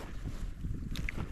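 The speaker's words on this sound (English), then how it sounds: "The wind has been like this, just blowing my lures, my flies all over the place." Gusty wind blows outdoors by a river on a fishing trip, a steady low rumble buffeting the microphone with no talking.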